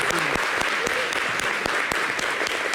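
Audience applause on a French-language television show, a dense steady wash of clapping that fills the whole stretch, with faint voices underneath.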